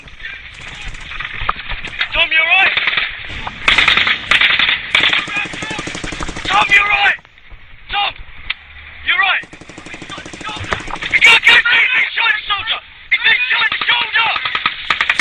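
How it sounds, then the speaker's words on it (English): British Army cavalry troops in combat returning fire with grenade launchers and machine guns: loud, rapid bursts of automatic fire in repeated stretches with short pauses, close and harsh, with shouting voices mixed in. "some return fire with grenade launchers and machine guns, while others deal with the casualty"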